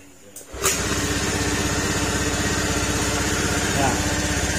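A Honda Beat FI scooter engine cranks and catches after a brief quiet start, then settles into a steady, close, loud buzzing idle with a deep, big-bike-like exhaust tone.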